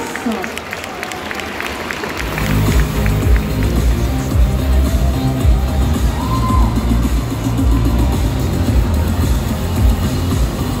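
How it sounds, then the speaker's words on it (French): A convention crowd bursts into loud, sustained applause and cheering for a cosplayer dressed as Daisy from Super Smash Bros. at a French cosplay contest. The clapping swells after a couple of seconds and keeps going steadily to the end. "Je vous demande de l'applaudir bien fort, Daisy de Super Smash Bros."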